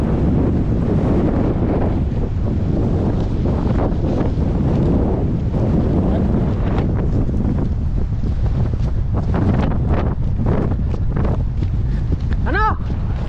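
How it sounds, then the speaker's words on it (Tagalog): Strong wind buffets the microphone in a constant roar on a boat in the middle of the sea, with waves washing beneath; a brief whistle-like tone cuts through near the end. "Medyo malakas lang po yung hangin."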